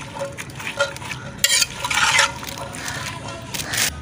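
A spoon scrapes and clinks as chana chaat is stirred with chaat masala and tamarind paste, giving soft wet mixing sounds with a few sharper scrapes against the bowl.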